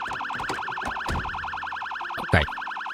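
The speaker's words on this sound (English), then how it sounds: "She turns on the ambulance siren." An ambulance siren in the zombie survival game Bus Nomad wails in a steady, fast up-and-down warble close by, with brief thumps and a short loud hit partway through.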